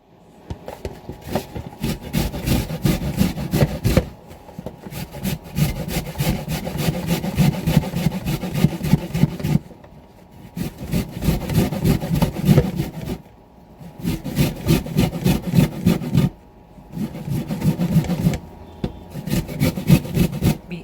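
Ripe mangoes rubbed hard against a metal grater for homemade chutney, a steady rhythmic rasping in close, loud bursts broken by brief pauses, with no talking.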